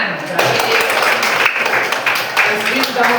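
Students applauding in a classroom, a short burst of scattered clapping close by, mixed with voices talking over it.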